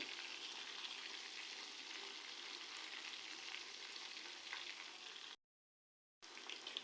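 Chicken pieces for a karahi frying in hot oil, a steady close crackling sizzle that holds evenly and then cuts out briefly before resuming, with no voices.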